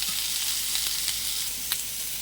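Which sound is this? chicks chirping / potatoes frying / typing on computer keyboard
potatoes frying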